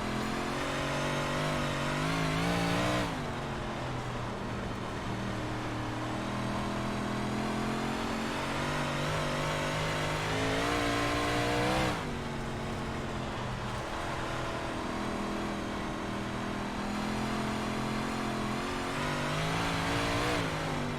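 Big Block Modified race car engine lapping Volusia in a racing sim, a loud, continuous droning roar that rises and falls with throttle through the laps, with sharp pitch shifts around the corners.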